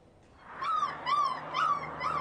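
A lost puppy trapped inside a culvert whimpers in a series of four high, thin whines, each rising and falling at a steady pace, slightly hollow and close, with no voices.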